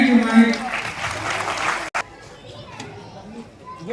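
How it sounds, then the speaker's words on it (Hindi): A crowd claps and cheers for a couple of seconds at a celebration of Ambedkar Jayanti, then the applause drops away into quieter murmuring voices and scattered noise. "आप लोग थोड़ा तालियां भी बजाते हैं"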